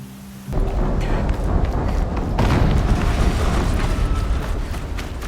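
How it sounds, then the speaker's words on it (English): A deep explosion in the video game Horizon Zero Dawn erupts suddenly after a brief quiet hum, then a sustained loud rumbling roar with crackling debris that lingers for several seconds. "An explosion."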